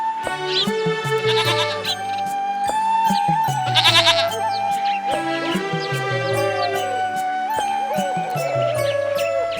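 A goat bleats repeatedly in a wavering, nasal voice, loud and close, with several calls overlapping alongside a faint tinkling bell and no speech.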